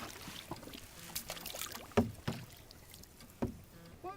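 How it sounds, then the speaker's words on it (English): Paddles dipping and pulling through water beside a canoe, several distinct splashy strokes at irregular intervals, close and fairly quiet, with no talking. "Keep paddling."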